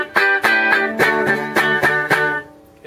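Chords ring out on the bridge pickup of a white Fender American Deluxe electric guitar through a plain Behringer amp, with about eight crisp bright strums in quick rhythm before fading, close and loud.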